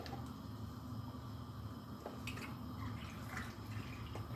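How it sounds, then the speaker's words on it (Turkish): A glass of milk poured into a bowl of ingredients with oil, a soft, steady liquid stream with faint drips, quiet and close with no talking. "Şöyle bir su bardağı süt ekeceğim."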